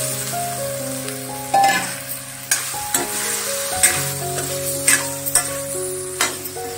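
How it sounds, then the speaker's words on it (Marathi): Elephant yam vegetable frying with red chili powder in a pan makes a steady sizzle, broken by repeated spoon-stirring scrapes and light clinks, with a low tonal hum beneath. "मी हे लाल तिखट घालते 1 चमचा, आणि आता ही भाजी घालून घेऊया।"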